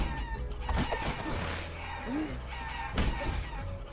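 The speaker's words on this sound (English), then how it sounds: "My home has become overrun with chickens." Chickens cluck and squawk in the video game Guacamelee!, with a few sharp calls and a rising crow-like note over a busy game soundtrack.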